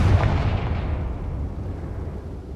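Confringo blasting spell from Hogwarts Legacy going off as a single heavy explosive boom whose rumble decays steadily over a couple of seconds, with no voices.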